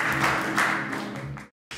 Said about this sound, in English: We give them a round of applause for helping us.